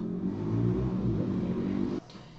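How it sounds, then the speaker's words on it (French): Motorcycle starting up outdoors, its engine rumbling and revving loudly in a mid-range drone for about two seconds before cutting off sharply, leaving a faint low hum. "il y a une moto qui a démarré"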